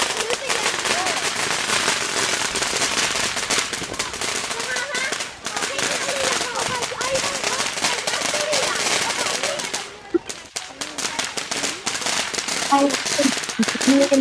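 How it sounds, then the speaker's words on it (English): Fireworks and firecrackers go off continuously at a live outdoor show, dense rapid crackling and popping bursts filling the whole stretch with only brief lulls, with people talking faintly underneath. "The fireworks."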